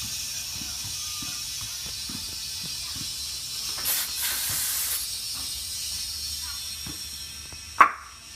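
A steady, close hiss of compressed air runs into a street motorcycle's front tire during inflation, swelling briefly midway, with soft tapping underneath and one sharp click near the end.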